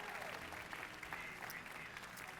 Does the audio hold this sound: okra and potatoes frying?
no